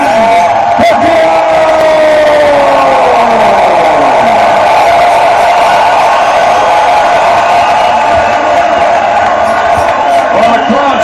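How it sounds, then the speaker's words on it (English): A boxing arena crowd roars and cheers loudly and continuously for Manny Pacquiao against Brandon Rios in Macau, with whoops and shouts, while an announcer talks over the din. "Well, the crowd's certainly into it."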